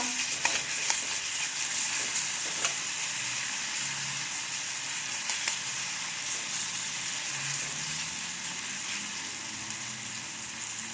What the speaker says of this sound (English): Cook them well, stir them nicely in this nice hot oil with panch foron ka tadka.